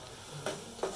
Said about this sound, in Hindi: मसाला देखिए हमारा भून चुका है